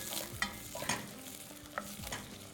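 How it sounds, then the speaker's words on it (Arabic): Sautéed onion and potatoes stirred in a soup pot, giving a faint soft sizzle with a few light scraping stirs over under three seconds. "هدي تقليبه"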